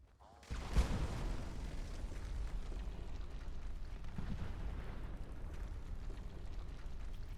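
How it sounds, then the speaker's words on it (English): Explosions in the video game Fallout 76: a sudden heavy boom, then a sustained low rumbling roar that holds steady for several seconds. "Things exploding."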